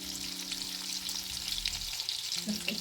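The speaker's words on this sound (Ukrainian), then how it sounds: "Смажимо з другої сторони." A pork chop sizzles and crackles steadily in a hot pan, with a faint low hum underneath and no talking.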